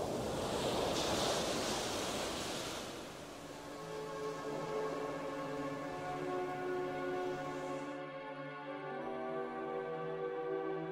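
Surf and foaming waves rush in an unfrozen winter bay near the North Korea–Russia border, loud and broad for a few seconds before fading under sustained musical tones.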